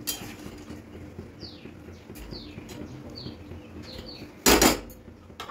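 Metal spoon scraping and clinking against a cooking pan while spiced food with whole and ground garam masala is stirred, light intermittent scrapes ending in a louder burst of clattering, with faint bird chirps in the background.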